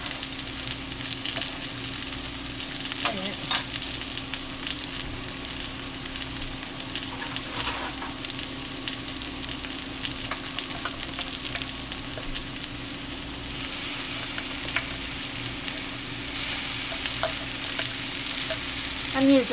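Minced garlic sizzles steadily in a hot pan for the whole stretch, a continuous crackling hiss with occasional stirring clinks and scrapes, no talking.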